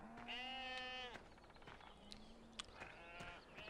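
Sheep bleat in the Ballincraig farming video game, with two loud harmonic bleats close by and then softer ones, over a steady background hum.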